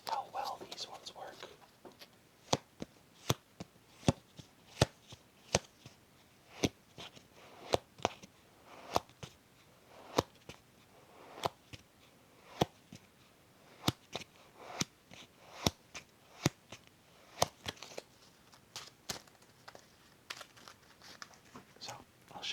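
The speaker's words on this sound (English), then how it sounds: "So I'll shuffle these up a bit" Sleeved Yu-Gi-Oh cards are shuffled in a steady run of crisp, close clicks and slaps about once a second, with soft whispered talk at the start.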